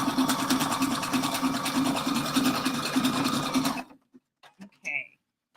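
A sewing machine runs steadily on a three-step zigzag stitch for about four seconds with a fast rhythmic needle chatter, then stops, leaving a few faint clicks and a short voice.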